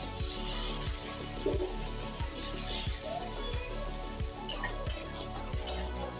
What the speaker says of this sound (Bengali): তেলের সঙ্গে ভালো করে এখন কষিয়ে নিই এখন অল্প করে একটু জল দিয়ে দিচ্ছি